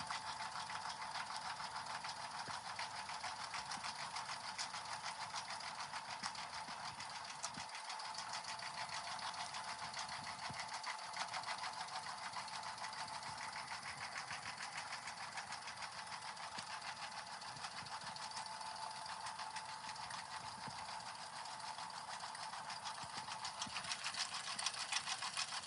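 A sewing machine stitches the main outline of a bag tag in one long, even run, a faint, steady motor hum with a fine rapid needle rhythm throughout.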